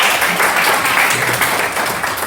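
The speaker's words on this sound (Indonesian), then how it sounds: "Oh iya betul, kasih tepuk tangan dulu" Classroom clapping for a student's correct answer to a math problem, a steady dense patter of many hands filling the space for a couple of seconds.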